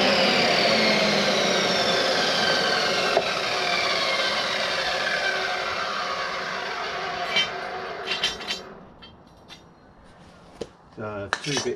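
Loud, continuous whine of a chop saw cutting timber during a VW Crafter camper van conversion, running steadily for about eight seconds before winding down and cutting off, followed by quieter workshop clatter.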